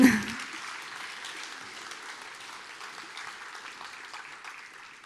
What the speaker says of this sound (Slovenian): Kulturno, lahko zaploskate, ni nič narobe.